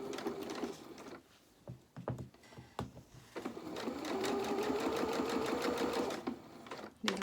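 Sewing machine running a 2.2-length straight stitch on doll pyjama bottoms, starting and stopping in short bursts before a longer steady run, close and fairly loud.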